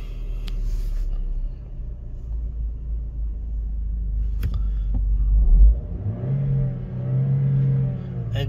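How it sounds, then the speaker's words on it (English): Vauxhall Meriva automatic car engine starting and settling into a smooth, steady idle, a low continuous rumble with a brief surge near the start-up, heard close and alone. "Engine sounds very smooth, very healthy."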